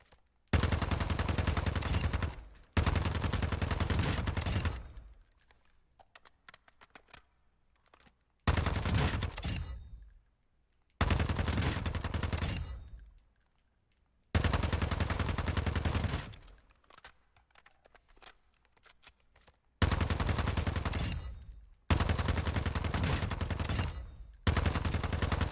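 Long bursts of automatic weapon gunfire in the video game DMZ, loud and dense, broken by short pauses and trailing echoes, with no talking.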